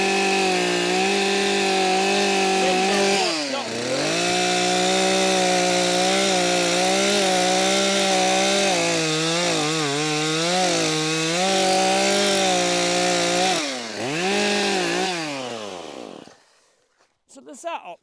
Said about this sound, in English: bigger saw, Davey.